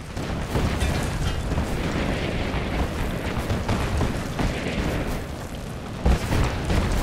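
Artillery shells from a Marvel's Avengers battle explode in a dense, continuous low roar of booms and rumbling blasts, with a sharper thump near the end.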